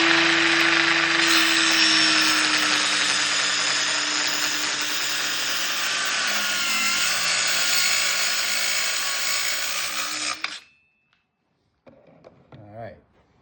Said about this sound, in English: You rest your saw right against the 2x4 clamp guide. And we'll turn the laser on.